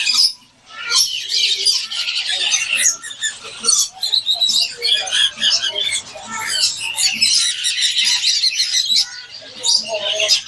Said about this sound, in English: Green parrot.